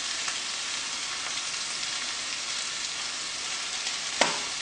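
Spinach noodles are mixed with dry spices inside a rice cooker, giving a soft, steady hiss with faint scraping and one sharp knock near the end, heard close and quiet with no talk.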